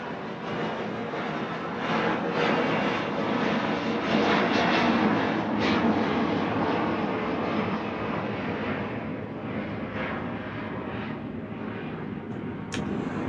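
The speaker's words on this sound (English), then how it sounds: "Alright, airplane, you go first. We will be silent." An airplane passes overhead near an airport, a loud continuous broadband engine roar that fills the whole stretch and slowly eases off toward the end, with no talk.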